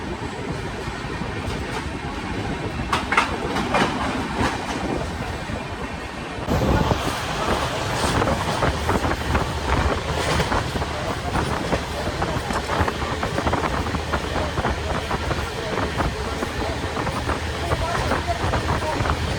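The New Delhi–Dehradun Jan Shatabdi Express runs on rails with a steady, loud rumble and rhythmic wheel clatter that continues throughout, heard from inside the moving train.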